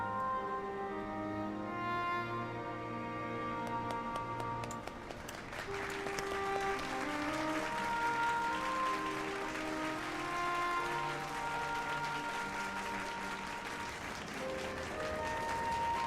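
Crowd applause in the Final Fantasy XIV Endwalker game, a dense wash of fast clapping layered over sustained orchestral music for most of the stretch.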